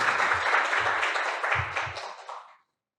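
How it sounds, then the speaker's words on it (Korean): A forum audience applauds in a steady wash of clapping, moderately loud and alone, tapering off and ending in silence after about two and a half seconds. "박수로 한번 좀 주시면 감사하겠습니다."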